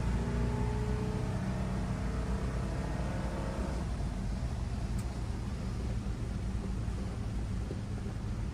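Cabin of a restored 1949 Chevy 3100 pickup with a 350 V8 driving on the road: a steady low engine drone and road rumble, fairly quiet and constant, with no voices.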